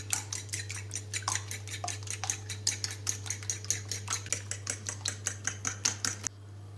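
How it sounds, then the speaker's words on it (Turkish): A fork or whisk clinks rapidly and steadily against a bowl while two eggs are beaten for coating fried cheese sticks, with a low constant hum running underneath. "2 adet yumurtamı kasem alıp karıştırıyorum"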